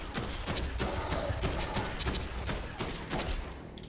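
Rifle shots ring out in Dead Island 2, a steady run of sharp, evenly spaced cracks close up and fairly loud, with no talking.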